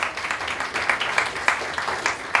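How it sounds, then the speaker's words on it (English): Audience applause at a spring recital, a dense, continuous patter of many hands clapping, fairly loud and close, with no voices standing out. "Big round of applause for Ethan."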